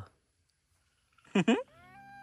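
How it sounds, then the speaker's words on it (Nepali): A cat gives two quick meows in a row, close by, followed by a trailing tonal whine. Otherwise near-silent. "कस्तो बिरालो कि बाघ हो?"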